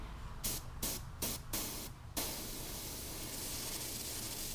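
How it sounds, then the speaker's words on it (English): Steady airbrush hiss spraying paint over the entire body of a bluegill fishing lure, cut by several brief pauses early on, then one continuous spray that runs to the end. "I'm going to spray the entire body with this"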